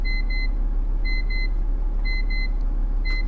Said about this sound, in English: It's your alarm.